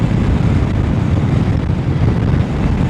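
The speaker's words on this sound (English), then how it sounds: "see now the wind is hitting me dead on" Strong wind buffets a DJI Mic Mini clip-on microphone outdoors, making a loud, continuous low rumbling roar that fills the whole moment with no voice.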